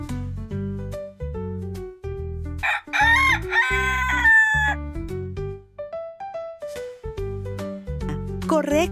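A rooster crows several times in a row, loud and close, with the crowing standing out over a bright, bouncy musical backing track.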